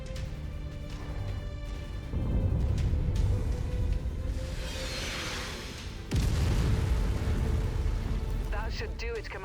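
Artillery in MechWarrior 5: Mercenaries, deep booming blasts and rumbling impacts in two strong surges, with an engine-like drone beneath and faint voices.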